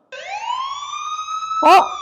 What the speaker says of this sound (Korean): 소방차 소리가 나네.